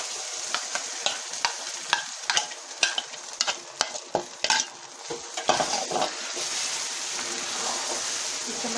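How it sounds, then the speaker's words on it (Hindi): Semolina stirred into hot syrup in a pan for makhandi halwa, a spoon scraping and swishing in uneven strokes over a steady sizzling hiss, close up with no voices. "इसमें हम सूजी डाल रहे हैं।"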